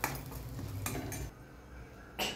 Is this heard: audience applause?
no